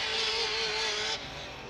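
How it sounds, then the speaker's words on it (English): Race car engine held at full throttle during Pro 2 off-road truck qualifying in St. Louis, a loud steady high-pitched whine that holds briefly and then drops off slightly, close by. "Yeah, big throttle there from Donati."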